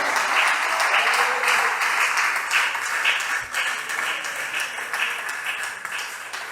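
A church congregation claps steadily during a Spanish-language service, dense moderate applause with a faint voice or hum underneath, holding level for over six seconds.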